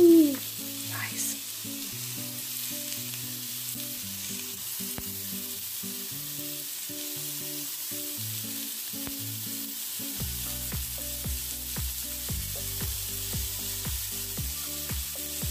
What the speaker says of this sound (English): now placing the skewers oil side down. I just love a sizzling sound.